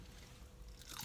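A short, crisp crunch of biting into crispy fried catfish, with a louder crackling burst near the end, close up and otherwise quiet.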